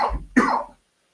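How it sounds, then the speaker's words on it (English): Two close, dry coughs in quick succession, the second sharper and louder, followed by silence. "we're both coughing away."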